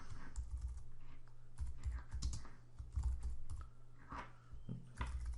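Quiet, steady clacking of keys on a computer keyboard in irregular runs, fairly faint and close, with no voice over it.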